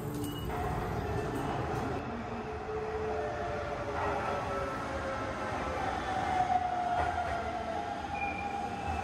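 Onboard a Hanshin Railway special train commemorating the Hanshin Tigers' championship, a steady loud rumble of wheels and carriage fills the ride, with faint squealing tones rising toward the end and no clear talking.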